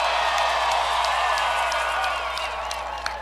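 Crowd applauding and cheering for Senator Bill Nelson and his wife Grace Nelson at a political speech event: a dense, steady wash of clapping with scattered whoops, sustained throughout and easing slightly at the end.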